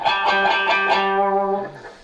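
A bright, sharp electric guitar tone with a scratchy attack from a pick's serrated edge plays several quick notes before one note rings and fades.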